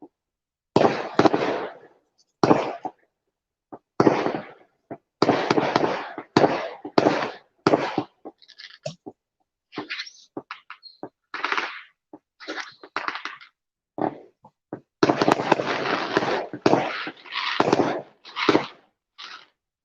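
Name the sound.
fireworks going off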